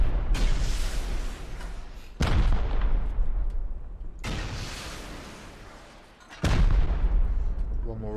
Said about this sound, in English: One more rocket that's going to go down there